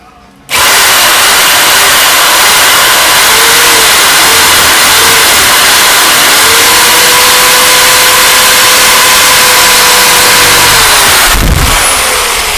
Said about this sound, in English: What is this thing? 800 watts electric jigsaw.